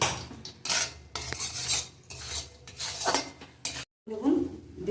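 Spicy semolina is stirred in a pan, a run of close, loud spoon scrapes in rhythmic bursts with a light sizzle, pausing briefly near the end before one more stroke.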